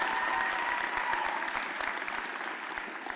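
Sustained applause from a graduation ceremony audience, dense steady clapping that holds strong throughout and eases only slightly toward the end, with no voices over it.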